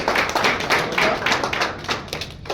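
Audience clapping at a prize draw event in Kolhapur, a dense, close burst of many hands applauding continuously, slightly fading toward the end.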